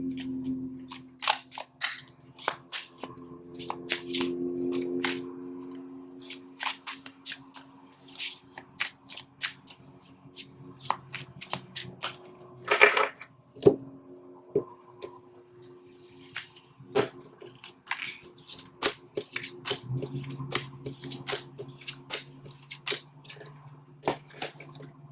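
A deck of oracle cards being shuffled by hand, giving bursts of crisp riffling and flicking snaps that repeat across the stretch with short pauses, close up, over a faint low hum.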